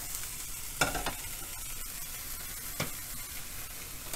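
Pepper jack stuffed pork sausage sizzles in a pan over low heat, a soft continuous crackle broken by a few sharp scraping and tapping sounds from turning or stirring.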